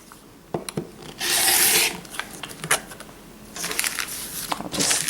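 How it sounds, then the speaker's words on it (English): Quilt foundation paper being trimmed along its solid lines for an apple patio table quilt, heard as close, dry rasping bursts of cutting, one longer stroke early and a longer stretch near the end, with quiet handling noises between. "now I'm going to trim all the other solid lines"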